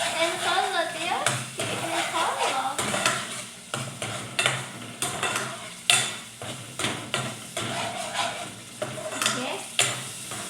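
Burger filling with tomato sauce stirred in a pan: steady scraping and clinking of a utensil against metal, with a soft sizzle underneath and a voice talking at times.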